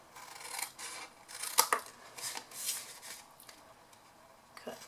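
Scissors snip through a paper box template in a quick series of crisp, close cuts with small pauses between them, no voices.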